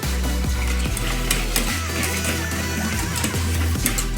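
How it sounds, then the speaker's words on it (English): A soy sauce and maple syrup marinade for steak is stirred in a bowl, giving a continuous close swishing and scraping with a faint sizzling texture and no voices. "Stir it up, make sure everything's integrated"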